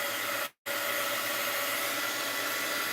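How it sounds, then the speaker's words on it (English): Heat gun blowing hot air, a steady loud whooshing hiss with one brief cutout near the start before resuming. "heat gun alert"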